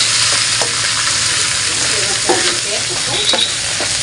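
Pork ribs fry with garlic and onion in a pan for caldereta, a loud, close, continuous sizzle broken by a few scraping stirs and metallic taps; nobody speaks.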